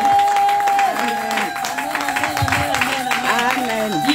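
A church congregation at a Sunday service applauding and cheering in a continuous crowd roar, mixed with a voice and sustained music tones.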